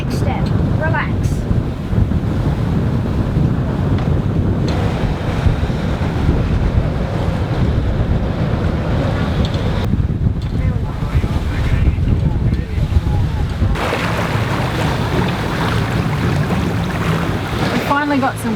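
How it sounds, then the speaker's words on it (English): Steady wind buffeting a sailboat at sea off the French Riviera in a 10 to 11 knot breeze, loud rushing gusts with water and hull noise beneath, continuous for the whole stretch. "We finally got some wind, about 10 or 11 knots"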